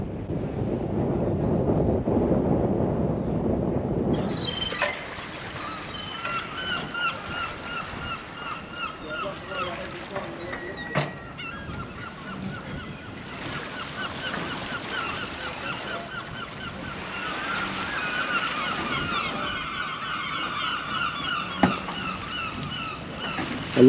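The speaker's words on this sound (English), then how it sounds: "I love the sound of seagulls." Seagulls calling by the sea on a windy coast, repeated squawks over gusty wind noise and water, fairly close and persistent throughout.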